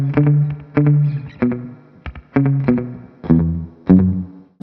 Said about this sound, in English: I've set up a slapback delay on the Timeline.